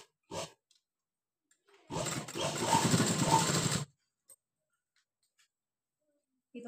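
A sewing machine stitches the folded front part of a high-neck collar blouse in one steady run of about two seconds, after a faint tap and with quiet before and after.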